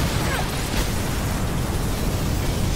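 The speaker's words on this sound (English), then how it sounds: "Big explosion over here!" Explosion in the video game Mirror's Edge Catalyst, a loud sustained roaring blast and rumbling noise filling the moment, broad and dense with no talk over it.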